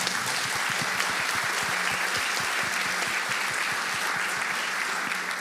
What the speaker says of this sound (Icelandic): Við skulum gefa honum gott klapp.